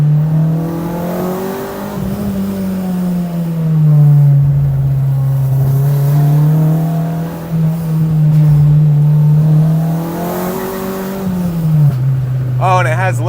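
A modified Acura RSX Type S with a limited slip differential accelerates hard on a road, its loud droning engine note rising and falling through gear changes, heard close from inside the car.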